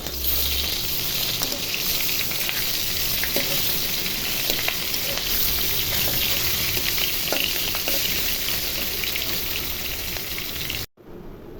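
Pieces of katla fish frying in hot oil in a pan, a loud steady sizzle with scattered spits and crackles as the fish is turned, running continuously before cutting off abruptly near the end.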